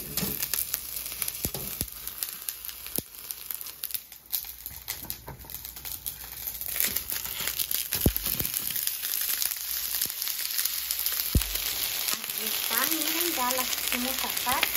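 Ayocote beans fry in a little oil on a heated comal, giving a steady, close sizzle with scattered sharp crackles throughout and a brief voice near the end.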